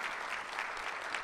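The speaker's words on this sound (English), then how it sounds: "You all deserve your own round of applause." A brief, steady burst of audience clapping at an education foundation's anniversary celebration, dense and even throughout, heard at a moderate distance.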